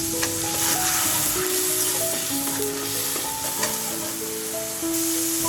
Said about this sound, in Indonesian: Panaskan minyak, kemudian tumis bumbu sampai harum.